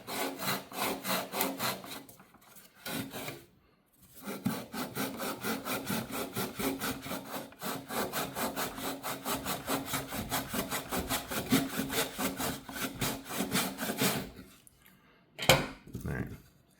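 Hand saw cutting through wood for a LEGO minifigure display case, steady back-and-forth rasping strokes in a fast rhythm with a couple of short pauses, close and clear, a few faint knocks near the end.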